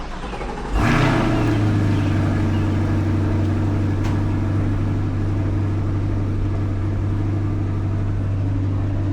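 A 2024 Chevrolet Corvette C8 engine fires up abruptly, then settles into a loud, steady, deep idle that holds close and unbroken for several seconds.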